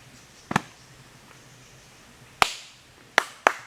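Sharp hand claps out in the Australian bush: one double clap, a quiet pause, then three more claps, the last two close together, crisp and nearby against faint outdoor background.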